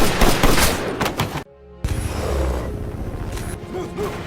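Rapid bursts of gunfire crackle loudly, broken by a brief silence, then more shots and clattering mixed with dramatic effects.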